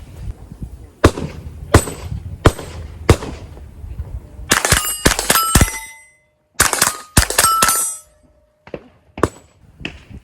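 Sharp rifle shots fired from a Wiland USA MLCS-11 modular lightweight chassis outdoors in the wind, first four evenly spaced single reports, then a cluster of rapid ringing shots and a few later ones, each loud and close with metallic ring.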